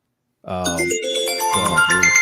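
A phone ringtone sounds abruptly after a moment of silence, a loud, bright, synthetic melodic tone that keeps playing with shifting pitched notes.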